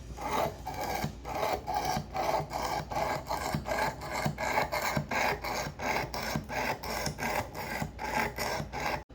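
Knife blade drawn repeatedly across the abrasive of a Work Sharp Precision Adjust sharpener, a steady rhythmic rasping of many close strokes with no talking.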